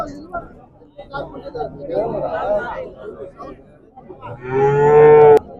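Calves moo loudly near the end, a long drawn-out call, after a stretch of overlapping talk and background chatter at a young-calf market in Chintamani.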